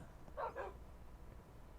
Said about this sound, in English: Yes, I hear puppies.